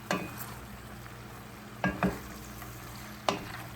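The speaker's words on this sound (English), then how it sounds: "So you just want to stir it around like so." Sliced squash and zucchini fry in a pan while being stirred: a soft, steady sizzle broken by a few sharp scrapes of the utensil against the pan, with no talking.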